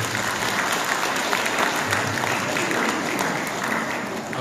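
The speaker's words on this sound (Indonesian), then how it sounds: "Boleh tepuk tangan buat Cakra Barani." An audience claps steadily for an Indonesia Got Talent–winning guitarist at a Quran recital gathering, a dense, even crowd applause lasting the whole moment with no pauses.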